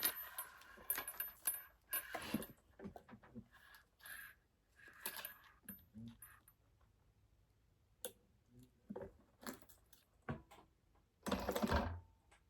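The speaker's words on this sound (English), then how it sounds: "I'm going to sew this along here at the seam allowance she gives you to close it off and make it a circle" A sewing machine stitches a strap seam closed into a loop, with backstitching at each end: a few short, faint bursts of stitching separated by quiet pauses and small clicks of handling.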